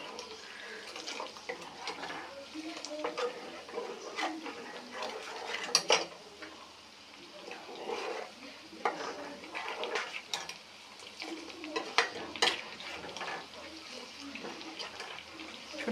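Ghee simmering and being stirred in a pot, with a steady bubbling sizzle, frequent metallic scrapes and clinks of a spoon against the pot, and a few sharper knocks, all close and continuous.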